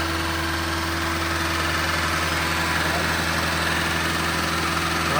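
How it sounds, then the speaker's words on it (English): An abandoned Honda Civic EG's engine idles steadily with a low humming drone and slight vibration, close and loud, while people talk over it. "we turned the car on"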